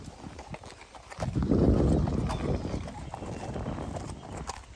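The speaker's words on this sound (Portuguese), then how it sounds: "O Bingo tocando os cavalos." Horses' hooves clip-clopping as a dog herds them, a dense run of hoofbeats that swells loudly at close range and then continues steadily, with faint background sounds and no clear talking.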